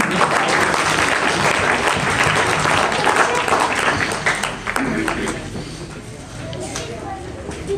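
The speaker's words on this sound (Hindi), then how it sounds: "तालियां" Loud, dense applause from an audience at a community event in Ratangarh where sweaters are given to needy students, sustained for several seconds before thinning out, with some voices underneath.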